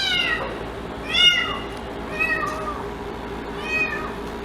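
A cat meows four times in a row, clear, fairly close high-pitched cries spaced about a second apart against low room noise.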